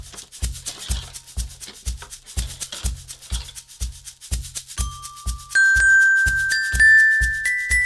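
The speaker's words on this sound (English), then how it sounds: "I'm gonna play this Glock." Glockenspiel notes ring out bright and clear over a steady looped percussion beat, entering partway through and sustaining as single tones.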